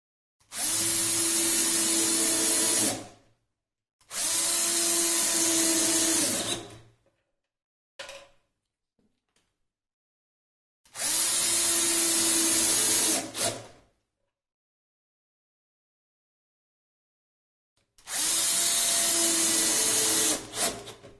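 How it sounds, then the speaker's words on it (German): A power screwdriver drives the remaining screws into the feet of a Sela snare cajon kit during assembly, whirring in four long, steady bursts separated by silence and a few faint clicks. "Dann nehmen wir die 4 Schrauben, die übrig noch sind, und schrauben die Füße fest."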